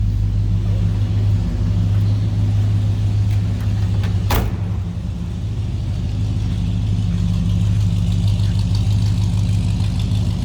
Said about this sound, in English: A little rumble coming out of that V8.